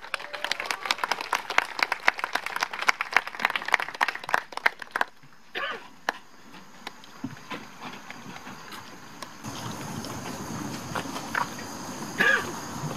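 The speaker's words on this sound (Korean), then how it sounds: "백남기 전국투쟁본부 문경식 대표님을 힘찬 박수로 모시겠습니다" Scattered clapping from a crowd at a memorial rally crackles for several seconds, thins out, and gives way to faint rustling and a brief voice.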